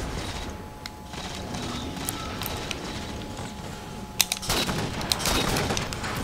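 Rapid gunfire from the video game Halo 4 on the Daybreak multiplayer map, dense bursts of automatic shots with sharp cracks layered over steady game background noise, loud and close.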